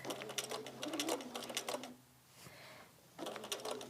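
A sewing machine stitches through a quilt block in quick rhythmic bursts, pausing briefly in the middle before the needle resumes its rapid patter, heard close and fairly quiet.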